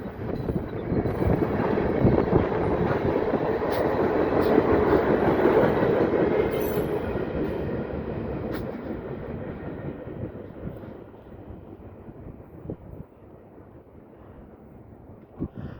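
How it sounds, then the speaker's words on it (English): CSX freight train Q635 rolling past the Radnor Road railroad crossing in Radnor, Ohio. A loud, rumbling clatter of wagons and wheels gradually fades as the end of the train moves away, leaving only a faint distant rumble. "There's the end of the train right down there"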